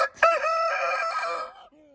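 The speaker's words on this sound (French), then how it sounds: "Donc Plumty, c'est ma poule que j'ai récupérée un jour après le lot de ces 3 poules là-bas" A hen vocalizing up close, one loud drawn-out squawking call lasting over a second, followed by a brief softer note.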